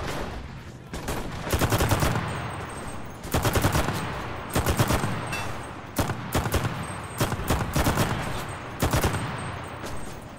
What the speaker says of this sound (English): Man, this gun with headphones sounds much better.